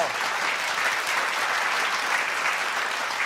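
A studio audience at a televised science show breaks into loud, sustained applause, a dense, steady wall of clapping that holds at full strength throughout.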